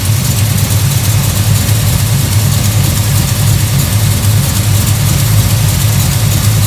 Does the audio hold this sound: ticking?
yes